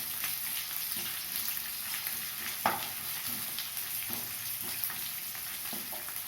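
Long-sliced onions frying in oil over a low flame, a steady close sizzle with occasional stirring clicks and no talking.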